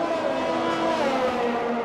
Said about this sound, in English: car getting a little rear end happy as he puts the loud pedal down out of the slowest corner